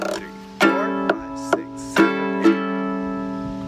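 Ukulele playing a down-up strum pattern with percussive scrapes and taps, five sharp accented strokes over ringing chords, close and clear with no talking.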